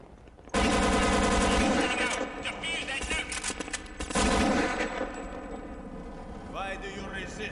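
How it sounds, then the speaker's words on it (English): Sustained automatic gunfire in the 2004 shooter Counter-Strike: Condition Zero, loud rapid bursts close up with brief pauses, and a voice speaking over the later part. "Too much enemy fire."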